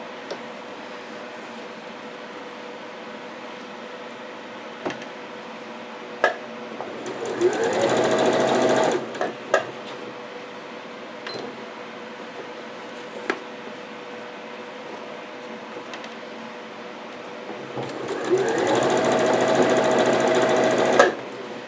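A Janome New Home 49360 sewing machine run at fast speed, two bursts of loud, rapid, steady needle hum a few seconds each, close up, separated by quieter stretches with clicks and handling noise.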